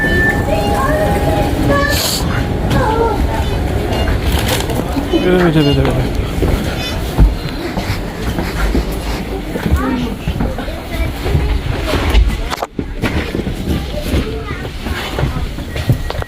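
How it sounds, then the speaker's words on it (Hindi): A train arrives and runs at a station in Germany, a broad rumble and rolling clatter with brake squeals and hiss, heard close among platform noise and people talking. "फाइनली अब जगह में ट्रेन आई है, अब मैं बैठने लगा हूँ।"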